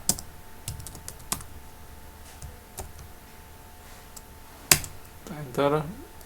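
Scattered clicks of keys on a computer keyboard, a few sharp single presses spaced apart and one louder strike of the Enter key, with a brief burst of speech near the end.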